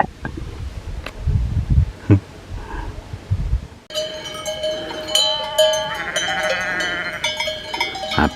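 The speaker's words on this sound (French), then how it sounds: "Un paquet de moutons, hein." Many sheep bleat together, overlapping and close, with outdoor rustling and wind on a mountain near La Clusaz before the flock's calls take over.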